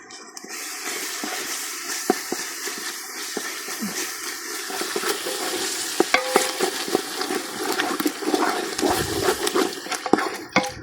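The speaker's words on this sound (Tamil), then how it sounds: "தயிர் கொஞ்சம் புஷ்பா கலக்குங்க" Curd being mixed into a pot while cooking outdoors in a garden, a continuous wet stirring and sloshing with scattered scrapes and knocks against the vessel amid open-air background noise.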